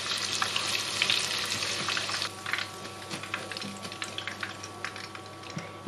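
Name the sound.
tofu frying in hot oil over high heat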